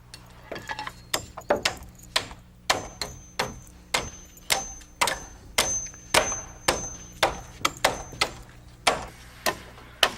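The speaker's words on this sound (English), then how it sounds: "One piece of purlin isn't long enough, so we add another piece, lapping 2 or 3 rafter bays and nail them together." Nails being hammered into roof purlins and rafters during wood roof framing, a steady series of sharp close strikes about one per half second with no voices.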